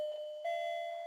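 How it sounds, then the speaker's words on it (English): A clock striking the hour, giving two clear sustained bell-like tones, the second entering partway through and ringing on over the first, steady and fairly loud with no talking. "Yeah, the bell's tolling. No, it's just the clock."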